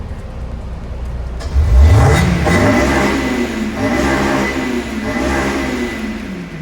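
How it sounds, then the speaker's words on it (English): Honda S2000 with stock exhaust revving hard, a sharp climb from idle into a high-pitched rising scream, then holding a loud sustained wail with slight pitch wavering, close and alone. "The exhaust note on this car is so good."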